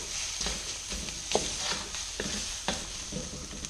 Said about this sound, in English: I'm going to continuously stir at the bottom of my pan once it's in